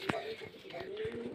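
Pigeons kept for sale at a home breeding spot coo softly, low throaty calls and a few soft flutters faintly audible at a distance.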